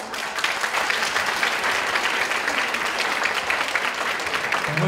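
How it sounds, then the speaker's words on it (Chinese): Steady, dense applause from a concert audience at a Chinese traditional music charity gala, continuous and fairly loud throughout with no pauses. "请大家掌声鼓励"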